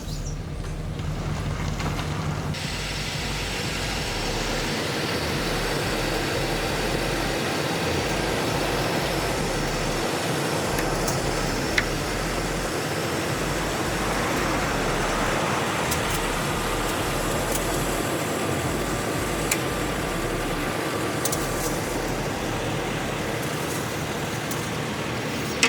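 A 2007 Chevy truck with a 4L80-E transmission idles steadily in a driveway while being shifted into reverse and drive, a constant low engine drone with faint wind noise throughout.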